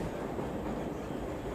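Moscow metro train running between stations near Prospekt Mira, a steady loud rumble and roar of wheels and carriage noise throughout, with no clear talk over it.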